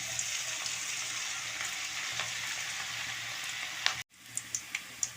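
Pieces of cabbage 65 fry in hot oil with a steady, fine sizzle that hisses continuously at moderate volume, then a brief break and a few crisp pops and spits.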